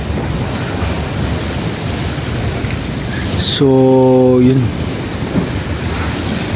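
Sea waves wash onto the shore at night in Boljoon, south Cebu, as a continuous broad rushing surf mixed with wind. A brief tonal sound and a short spoken phrase cut in midway.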